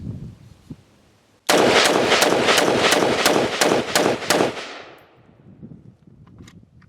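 A rapid string of about a dozen sharp, loud rifle shots from a Cru Arms Temp 556, a Canadian AR-180-style rifle, fired close by in quick succession, then ringing off into quiet.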